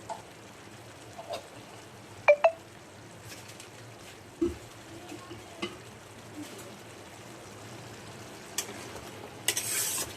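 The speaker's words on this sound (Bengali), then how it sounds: "এগুলো দিয়ে ভালো করে কষাতে হবে" Spices and ground coriander cook in a pan on a home stove, giving a faint, low sizzle under scattered scrapes and clinks of a stirring spoon, with one brief louder hiss near the end.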